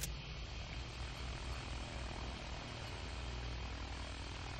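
An airplane engine in Battlefield 1 drones loud and close, a steady, full propeller roar that holds throughout with no voices over it.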